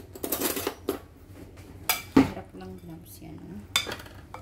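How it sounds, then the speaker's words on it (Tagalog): A utensil scrapes and clinks against a bowl while a lemon garlic Greek yoghurt chicken marinade is mixed, giving irregular close bursts of scraping with a few sharper clinks and quieter pauses. "Mix together. Then all the ingredients, all the seasoning will combine."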